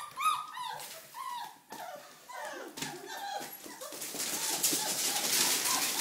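Four-week-old Red Rust Doberman Pinscher puppies whimper and squeal in a litter, with high, wavering cries overlapping close by and growing denser toward the end, while a person murmurs softly nearby.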